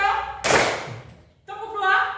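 A group of people clapping in a counted rhythm, with a sharp burst of claps partway through between spells of chanted speech.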